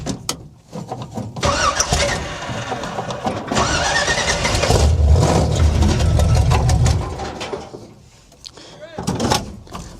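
A junkyard Chevrolet Chevelle engine, freshly rewired, is cranked and fires up, the starter whirring before the motor catches and revs loudly, then dies away; a voice talks nearby.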